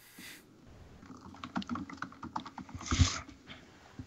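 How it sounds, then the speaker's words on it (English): Rapid, frantic typing on a computer keyboard, a quiet, uneven flurry of clicking keystrokes with one louder clack near the end, heard fairly close in a quiet room. "Sounds like Parafix is going mad on his keyboard."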